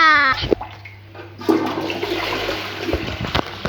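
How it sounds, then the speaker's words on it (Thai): A toilet flushes in the Minecraft video game: a brief tonal chime and a few clicks, then a loud rushing gurgle of water that swells and churns to the end, with no speech. "แล้วก็ชักโครกบิงบิงบิงบิงบิ ง เหมือนเสียงในห้องน้ำผมไงล่ะ"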